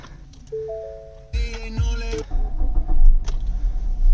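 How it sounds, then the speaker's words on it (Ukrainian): A 2014 Ford Fusion SE starting from inside the cabin: a few electronic dashboard chime tones, then a short starter crank as the engine catches and settles into a close, steady idle rumble. "Запустимо цей чудовий двигун."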